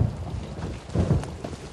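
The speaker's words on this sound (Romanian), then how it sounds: "Știu că plouă, dar este o competiție, jucăm pe ploaie." Steady rain falling on a Scottish-style golf course during a competition, a dense continuous hiss with low rumbling swells, close and fairly loud, no talking.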